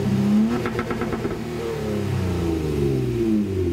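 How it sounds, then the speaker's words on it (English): A 2016 Honda Accord Coupe with a Borla exhaust revs nearby, a loud, deep engine note rising and falling through several throttle blips and then holding a steady drone. "Still got the Borla exhaust on here."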